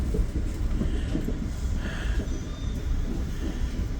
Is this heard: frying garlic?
no